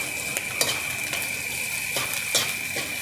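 Ginger sizzles in a pan for ginataang tilapia, with steady frying hiss and occasional stirring scrapes and clinks, close and alone with no voices.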